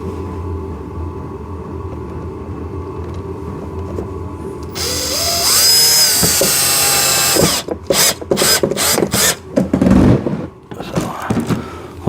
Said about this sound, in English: So first things first, we're going to put a screw into that one.